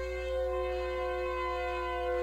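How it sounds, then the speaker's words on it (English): Siren Head creature's siren call in a horror video game, a sustained, droning, harmonic wail holding a steady pitch, loud and uninterrupted. "Sounds like Siren Head to me"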